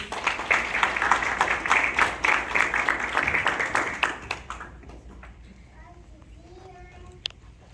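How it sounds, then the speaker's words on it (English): Applause from a school audience at an elementary school Safety Patrol ceremony: a burst of dense clapping that fades after about four seconds, leaving scattered claps and children's voices in the background. "Big round of applause."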